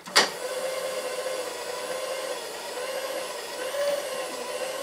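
A power feed motor on a Bridgeport milling machine runs at its slowest speed, giving a steady, close electric whine with a thin high hum that barely changes after a sharp click at the start.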